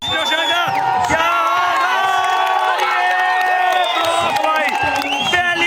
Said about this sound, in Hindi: तालियों की गड़गड़ाहट से गूंजता हुआ इस समय